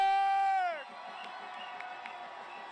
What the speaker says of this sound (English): Make your loudest possible cheer for Manadal Hazala from the U.S. Palestinian